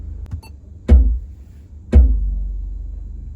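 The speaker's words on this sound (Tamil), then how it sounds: "இந்த பேஸ் எஃபெக்ட் ஒரே ஒரு ஃபங்க்ஷனில் சேஞ்ச் பண்ண முடியும் பாருங்க." Deep bass from an upgraded car audio system in a Suzuki Ciaz, two heavy low thumps about a second apart, each ringing out in a booming rumble inside the cabin.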